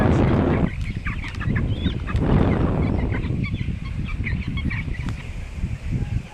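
Chickens cluck inside a bucket resting on a weighing scale, a close, steady mix of overlapping clucks and rustling with no pauses.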